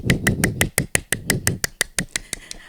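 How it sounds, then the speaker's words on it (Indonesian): Children clap their hands together in a steady, even rhythm, roughly a dozen sharp claps close by, with a livelier burst at the start and a few quieter claps trailing off at the end. "Tepuk tangan yang meriah."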